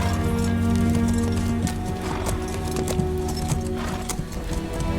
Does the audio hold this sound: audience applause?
no